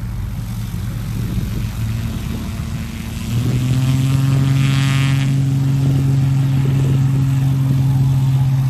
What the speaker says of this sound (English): See some cool airplane flying.